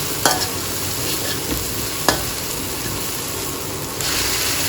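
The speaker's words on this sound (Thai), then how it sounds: "ใส่หอยเชลล์ลงไปแล้วผัดให้เข้ากันกับพริกกระเทียมครับ" Scallops stir-fried with chili and garlic in a hot pan make a continuous close sizzle, broken by a couple of sharp clinks of the spatula against the pan, with no voices.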